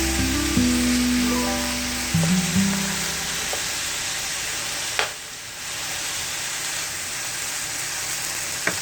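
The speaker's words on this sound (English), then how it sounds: "now I kind of spread the hamburger out" Ground hamburger meat sizzles steadily in a pan on a stove over a little above medium heat, a continuous frying hiss with a few scraping stir sounds early on and no talking.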